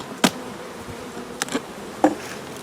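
Honeybees hum in a soft continuous drone inside an open hive during inspection, broken by a few sharp clicks and knocks close by.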